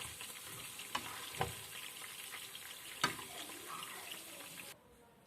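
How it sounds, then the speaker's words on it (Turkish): Chicken wings fry in a pan with a steady sizzle, broken by a few sharp clatters of stirring or utensil contact, before the sound cuts off abruptly near the end. "tavuklarımız gayet güzel bir şekilde kızardı"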